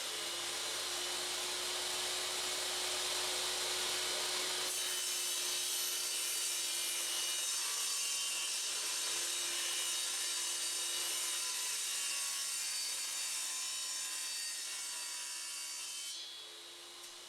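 A hand saw rasps steadily through scrap plywood in continuous back-and-forth strokes, loud and close, with no talking.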